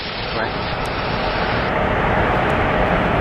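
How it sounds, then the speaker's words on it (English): An Embraer ERJ 175 jet airliner passes at a Seattle airport, its loud, dense engine roar filling the moment and building slightly toward the end. "There goes the ERJ 175."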